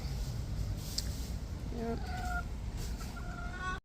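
Roosters cluck in short, tonal bursts over a loud, constant outdoor rush of noise, with a few brief higher calls mixed in.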